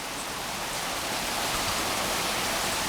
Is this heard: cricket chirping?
no